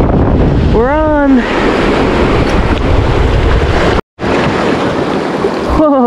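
Whitewater rapids on the Main Salmon River below Black Rock Canyon roar in a loud, steady rush, buffeted by heavy wind noise on the microphone, with a brief dropout and a voice briefly audible.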